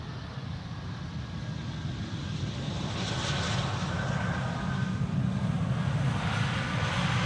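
An Atlas Air Boeing 747-400 freighter landing at Amsterdam Schiphol produces a steady, broad engine roar with deep rumble, gradually swelling louder as it approaches, heard from a distance with no voices.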